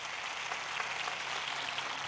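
An audience at a church outreach meeting applauds, a dense, steady patter of many hands clapping throughout with no talking over it.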